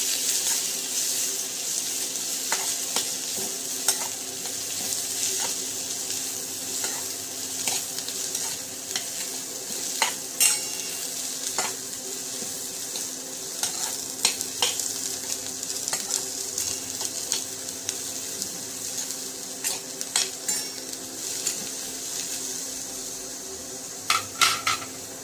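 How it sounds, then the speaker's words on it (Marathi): Chopped cabbage and chana dal are stirred and sautéed in a hot tempering, giving a continuous sizzle with frequent scraping and clinking of a spoon against the pan throughout, close and fairly loud with no talk. "सगळं साहित्य छान परतवून घ्या"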